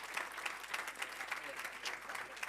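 A modest round of clapping from an audience at a talk on restaurant dining-room service, brisk and even, heard at moderate distance over a few seconds.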